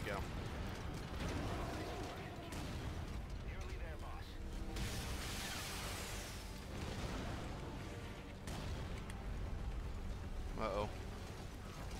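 Artillery bombardment in Metal Gear Solid V, heavy rumbling blasts and repeated booming impacts rolling on continuously, with a player's voice talking over the barrage.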